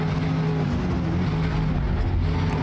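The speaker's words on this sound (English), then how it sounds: "Car does sound rev happy." A car engine in the Forza Motorsport racing game drones steadily and loudly at a sustained pitch throughout, with no talking.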